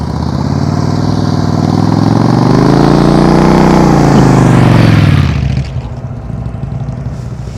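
Motorcycle engine under throttle at slow speed during advanced slow-speed riding practice, a loud close rumble whose pitch rises and falls, then cuts back to a quieter idle.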